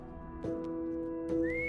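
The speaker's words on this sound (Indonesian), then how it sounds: "Tiba-tiba dia mendengar suara siulan dari belakang rumah." Two sustained whistled tones sound in a quiet room for a horror story, each starting with a sharp attack, the second ending in a rising glide.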